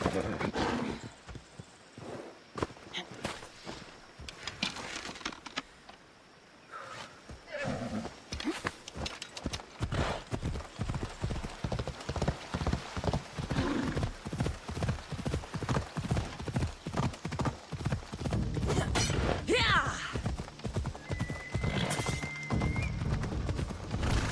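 A horse gallops in Assassin's Creed Odyssey, with rhythmic hoofbeats driving steadily and growing denser and louder. A neigh sounds near the end, and game sounds play underneath.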